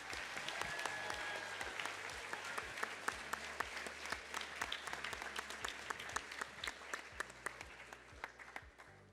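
Audience applause at a high school decision day event, sustained dense clapping from a crowd that carries on steadily for the whole stretch, with scattered sharper individual claps standing out.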